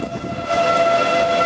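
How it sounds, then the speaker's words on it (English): Town warning sirens sounding in the south of a town during a storm, a steady sustained wail with tonal bands, heard at a distance over ambient rumble. "Still got sirens down in the south in the town."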